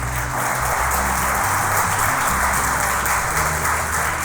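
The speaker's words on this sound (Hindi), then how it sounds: "इब्राहिम के लिए जोर तालियां।" Steady, dense applause from a large church congregation fills the space without a break, loud and continuous.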